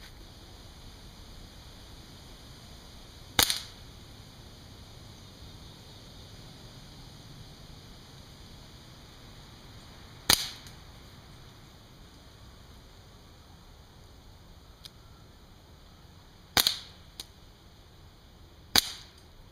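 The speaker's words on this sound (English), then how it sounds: "we're going to take a whack at these with some air rifles, 22 cal Crosman Phantoms" Four sharp, isolated cracks from .22 caliber Crosman Phantom air rifles shot at pumpkins from about ten meters, spaced several seconds apart over a steady background hiss outdoors.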